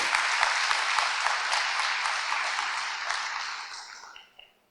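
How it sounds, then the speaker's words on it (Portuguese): A church congregation applauds loudly and steadily, a dense wash of clapping that fades out over the last second. "Vamos aplaudir a ele bem forte?"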